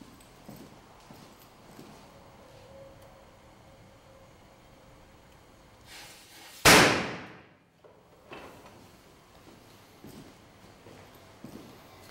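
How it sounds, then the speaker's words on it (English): A range-top fire suppression device mounted over a grease fire goes off with a single loud sudden burst and whoosh of dry chemical powder, rising out of a quiet low-level background and fading within about a second. "after the device went off, it dropped the dry chemical onto the grease fire"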